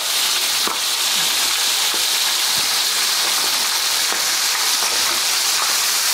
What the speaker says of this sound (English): when you're frying, especially calamari